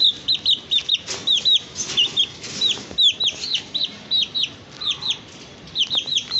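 Rapid high-pitched chirping and clucking from a small silky-feathered chicken chick, repeating in short bursts close by, with brief pauses between calls.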